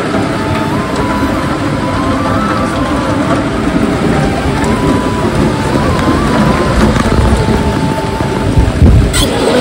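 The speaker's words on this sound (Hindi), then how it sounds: "पूरा बारिश हो गया।" Heavy rain pours steadily in a dense, continuous hiss, loud and close, with a low rumble underneath throughout.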